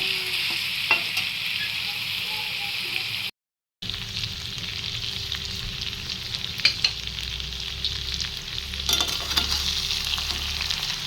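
Broiler chicken fries and is stirred in a new kadai with kasoori methi, a steady close sizzle with scraping stir strokes running throughout and a brief gap in the middle.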